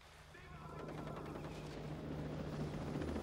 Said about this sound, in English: We got a helicopter coming next.